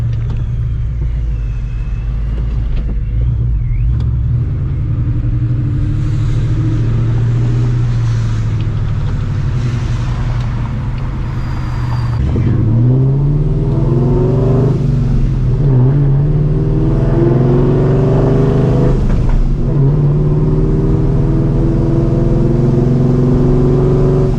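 Ford New Edge Mustang GT V8 running on a rich tune, heard from inside under light acceleration: a steady low engine drone with rising rev sweeps midway, continuous and fairly loud, no talk.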